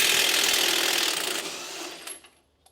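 An impact gun or ratchet works loose a big shock absorber nut on a vehicle with a loud, continuous rattling buzz that fades out, followed by a few faint clicks.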